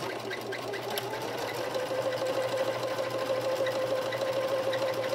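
A sewing machine runs steadily, stitching the seam of an 18-inch doll dress; a continuous close mechanical whir with a fast even needle rhythm, with no talking.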